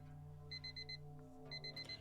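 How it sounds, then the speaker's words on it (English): In the video game Love Shore an alarm clock rings in two bursts of rapid electronic beeps, four short pulses then several more after a pause, fairly quiet over a low steady hum. "Alarm clock."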